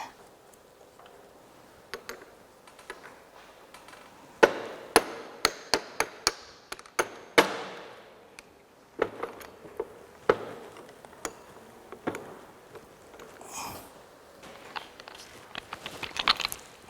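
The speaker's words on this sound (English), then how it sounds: "Now the piston pin should be removed." An engine piston's pin is worked out of its connecting rod, giving a run of sharp metallic taps and clicks, some in quick clusters and some isolated, close by over a quiet background.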